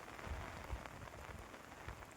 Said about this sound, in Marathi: कारण लय भरपूर पाऊस आहे बघा.